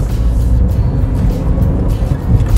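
A manual Chevrolet Spark pulling away from a standstill, its engine a low steady drone heard loud from inside the cabin with a slight rise in pitch as it gathers speed.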